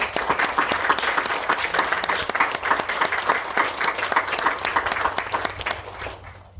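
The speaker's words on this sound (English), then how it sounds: "one more round of applause for our class and our teachers." A graduation audience applauds steadily, a dense sustained clapping from a crowd that fades slightly toward the end.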